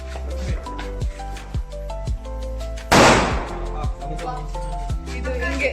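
A single loud Diwali firecracker bursts close by in a sharp broadband blast midway through, with steady music and its rhythmic beats playing throughout.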